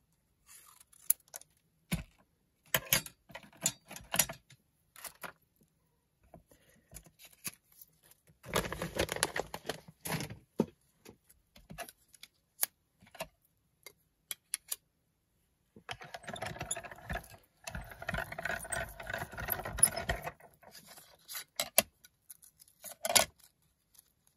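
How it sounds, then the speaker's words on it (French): Scissors cutting paper for a junk journal made from recycled toilet paper rolls, heard close and quiet as bursts of crisp snips and rustling, separated by silent pauses. "Mes ciseaux."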